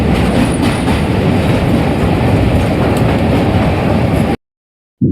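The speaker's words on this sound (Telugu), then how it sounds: "ట్రైన్ అయితే స్టార్ట్ అయిపోయింది." Train pulling away and rolling near the Krishna river crossing: loud, continuous rumble with rhythmic wheel clatter close by, broken by a brief dropout near the end.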